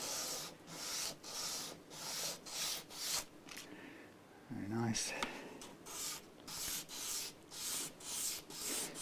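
Rhythmic back-and-forth rasping of a guitar nut being sanded down to thickness during a Rally GL300 setup, close and steady strokes with a brief pause midway where a voice speaks briefly.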